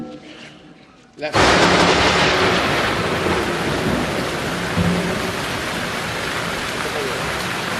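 Heavy, torrential rain pours down steadily after a sudden start, with low rumbles of thunder rolling underneath the dense downpour.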